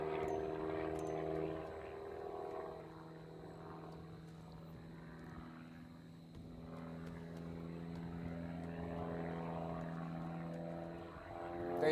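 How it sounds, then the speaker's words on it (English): Giles aerobatic airplane with a four-cylinder engine flying competition maneuvers at a national aerobatics contest, a steady propeller drone with a sustained hum that swells and fades slightly as it moves, heard from a distance. "This is only 4 cylinders versus some of the more performing airplanes do have a couple more cylinders out there"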